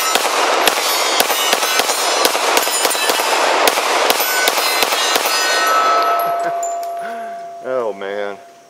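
A Glock 17 Gen 4 pistol fires around a dozen sharp shots in quick succession, each hit ringing off a metal target with a bright clang. The shooting stops, the ringing fades, and a brief voice follows.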